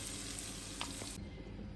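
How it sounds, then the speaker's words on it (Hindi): Hot oil tempering for dal mash sizzles and crackles steadily, a bright hissing fry that drops somewhat in intensity partway through; no one speaks. "अब मैं इसके ऊपर जो तड़का डाल दूँगी"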